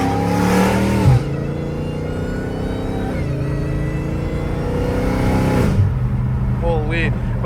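A straight-piped Dodge Hellcat Redeye revs loudly up close, with sharp rising engine sweeps at the start and end over a constant heavy rumble, and a voice talks briefly near the end.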